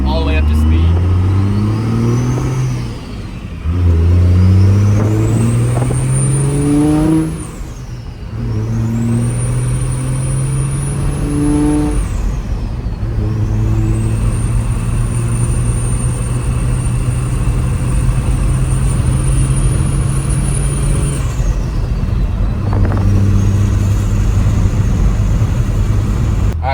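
Tuned second-generation Cummins diesel truck on a daily tune with a Quadzilla Adrenaline, accelerating at about half throttle on a smooth road: loud engine roar rising through several gears with a whistling turbo whine climbing alongside, heard from inside the cab.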